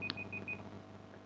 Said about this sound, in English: was me beeping, sorry